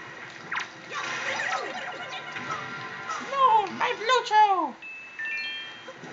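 A statue splashes into a river in the video game Wind Waker, a burst of watery splashing and sloshing with chirpy game tones, heard with a voice talking before it.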